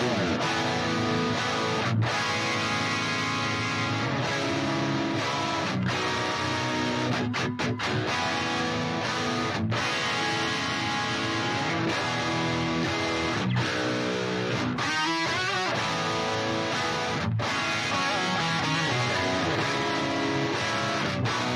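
Two overdriven electric guitars, one a Stratocaster with stock pickups through an amp sim, play different parts together in a dense, continuous rock texture, loud and steady with brief stops and restarts.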